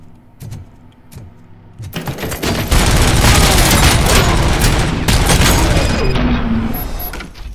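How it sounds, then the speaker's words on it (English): Gunfire in Robocop Rogue City, a few sparse shots giving way to a sustained, loud automatic barrage with heavy booming impacts and mechanical clatter that gradually tapers near the end. "shooting the guy in the most inappropriate places"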